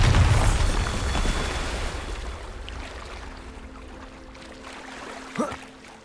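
A Bombarda explosion spell goes off in Hogwarts Legacy with a loud, broad roaring blast that slowly fades into a rumbling wash, with a small pop near the end.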